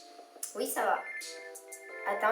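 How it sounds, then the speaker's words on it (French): A mobile phone ringtone plays a short tonal melody under someone speaking French, its notes chiming close and clear between her words. "c'est mon téléphone"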